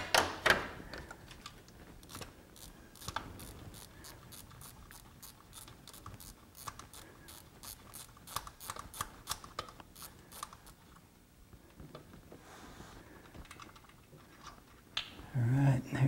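A hand ratchet with an extension works a VTEC solenoid bolt on an 8th-generation Honda Civic, giving rapid clicking runs in short bursts with pauses, fairly close, with occasional low talk.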